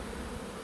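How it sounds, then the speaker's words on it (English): Swarm bees buzz steadily while crawling across a rubber mat into a hive outdoors in Northern Ontario, a dense, even drone close by with no pauses and no voices. "I've dumped a bunch of bees on the ground here, and they're crawling into this hive"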